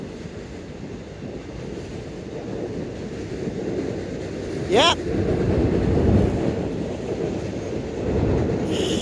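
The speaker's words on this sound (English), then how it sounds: "There's a second train crossing." Train crossing at Kenova, West Virginia, a steady low rumble of rolling cars with a brief wheel squeal, heard from trackside at moderate distance while a voice speaks briefly.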